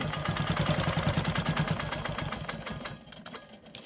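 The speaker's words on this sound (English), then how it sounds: "I'm going to go ahead and stitch the inside portion of this block and then do my straight line quilting." A sewing machine stitches the inside of a rolling stone quilt block with straight-line quilting, a steady rapid mechanical whir with fast repeating needle beats that carries on close and continuous before slowing and fading near the end.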